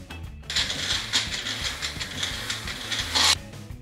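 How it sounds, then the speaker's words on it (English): A small blender purees Chinese broccoli (gai lan) with a little liquid, whirring steadily with a gritty, hissing drone that starts abruptly and cuts off near the end. "you can use a small blender."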